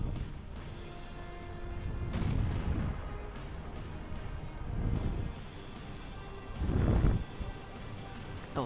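Tank cannon fire in the video game World of Tanks: several deep, muffled booms spaced a few seconds apart over a steady low rumble of battle noise, at moderate loudness.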